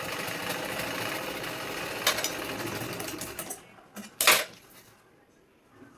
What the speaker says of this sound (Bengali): আগে ছ কাটিংয়ের এটাকে সেলাই করবো